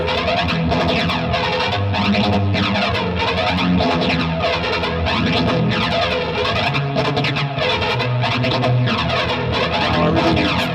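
Electric guitar run through a phaser effect pedal, a dense, continuously sweeping and swirling tone with a distorted edge, played steadily and loudly with no voices.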